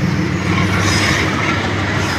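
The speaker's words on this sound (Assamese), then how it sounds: "ভাই ৰেল চাওক, ৰেল ৰেল" A train passes close by on a railway line during a bicycle outing. It makes a loud, continuous rumbling rattle of wheels and wagons that fills the whole moment, with no talking.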